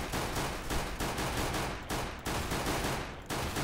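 Rapid shotgun blasts in Counter-Strike: Global Offensive Arms Race, several loud, dense bursts of gunfire packed close together with brief gaps, harsh and full-range throughout.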